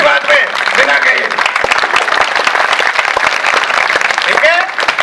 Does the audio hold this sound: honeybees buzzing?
no